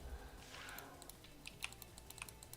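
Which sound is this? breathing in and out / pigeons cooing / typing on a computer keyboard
typing on a computer keyboard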